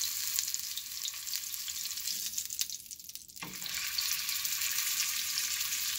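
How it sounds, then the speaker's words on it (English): Peppered, sesame-crusted bluefin tuna searing in a hot pan gives a steady, close sizzle that runs throughout, with a brief softer dip as the piece is turned onto another edge. "we get a nice sear on each side. And we're just gonna rotate this all the way around"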